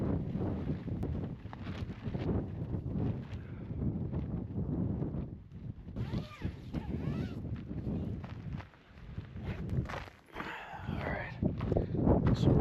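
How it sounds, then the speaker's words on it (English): Strong wind buffets a desert campsite in the Sonoran Desert before dawn, a steady, rough rumble with gusting swells and occasional rustles and crackles close to the microphone. "It's 4 in the morning and it is so windy outside."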